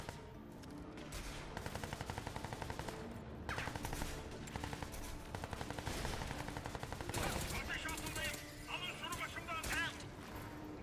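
Rapid automatic gunfire in the video game Crysis 3 Remastered rattles in repeated bursts across the scene, loud and close, with explosions and effects mixed in and voices talking over it.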